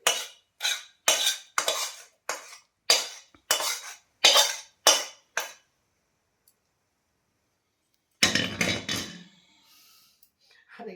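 Fruit cake batter with cashews and raisins is mixed by hand in a large bowl, giving about ten rhythmic, close scraping and clinking strokes. After a pause comes one louder, rougher burst of mixing.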